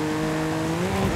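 A BMW M4 F82 and an M4 Competition in Forza Horizon 5 accelerate hard on a highway, a loud, steady engine drone with a rising tonal whine.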